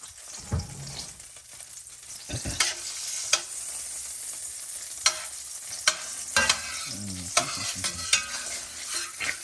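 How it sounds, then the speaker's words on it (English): Chopped onions sauté in melted butter for a creamy oyster mushroom stroganoff, giving a steady soft sizzle broken by scraping stirs and occasional clinks of a utensil against the pan, with no talking. "we're going to go ahead and add in our chopped onions, and we're going to saute those for about 5 minutes until they become translucent"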